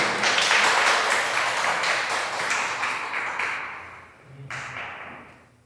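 A church congregation applauds, a dense wash of many hands clapping that swells and then fades over several seconds, with a few stray claps near the end.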